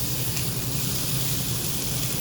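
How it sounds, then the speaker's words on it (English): Short rib searing in a hot pan in a restaurant kitchen, a steady close sizzle with a low hum underneath, continuous and even throughout. "Now we're getting a nice sear on all sides"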